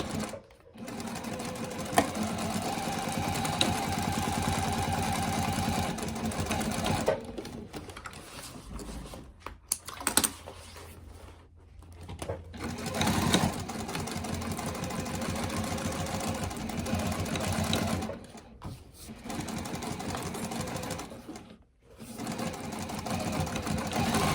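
A sewing machine stitches seams on a fabric notebook cover, running in long steady bursts with brief pauses between passes, close and continuous.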